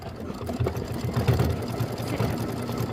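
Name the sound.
embroidery machine stitching out a quilt block design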